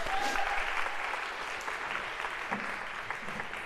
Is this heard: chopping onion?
no